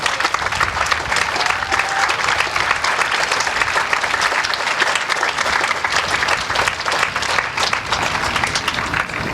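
Sustained audience applause at a Relay for Life cancer fundraiser, dense and even clapping from a large crowd filling the whole stretch without a break.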